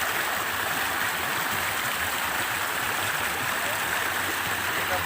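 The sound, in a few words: water flowing in a deep cave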